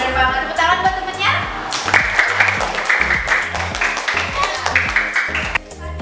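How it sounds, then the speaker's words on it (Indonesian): Children at a kids' water education day in Bali clap for a friend, a lively burst of scattered hand claps over background music, fading out near the end. "Tepuk tangan buat temennya."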